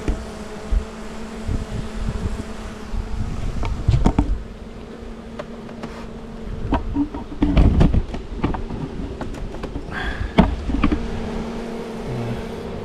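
A swarm of honeybees buzzing during an August swarm, a dense continuous hum close by, with individual bees whining past and brief knocks and handling noises.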